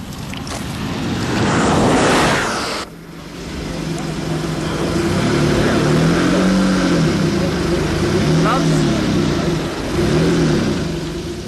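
A Jaguar XJ220 engine revs and accelerates loudly, with a brief burst and cut near three seconds, then sustained rising and falling engine tones. Voices talk over it throughout.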